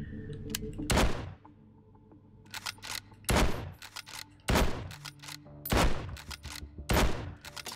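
Carcano bolt-action rifle fired in the VR shooting game Hot Dogs, Horseshoes & Hand Grenades: about seven sharp, loud cracks spaced a second or so apart, each with a short decay, with faint bolt clicks between.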